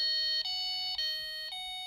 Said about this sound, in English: that shaking, that movement, that sets off the anti-theft on the receiver